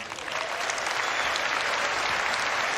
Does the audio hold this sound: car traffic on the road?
no